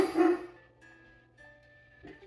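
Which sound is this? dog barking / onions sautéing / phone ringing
dog barking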